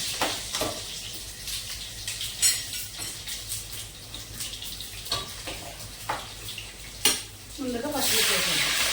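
Garlic and green chillies fry in hot oil with a steady broadband sizzle, broken by several sharp clinks and scrapes of stirring and a louder burst of crackling near the end.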